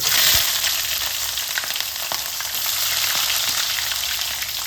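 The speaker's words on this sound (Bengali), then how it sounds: "এর মধ্যে এবার পেঁয়াজ কুচানোগুলো দিয়ে দেবো" Chopped onions fry in hot oil with dried red chillies, a bay leaf and cumin seeds, a loud, continuous close sizzle with faint crackles and occasional stirring knocks.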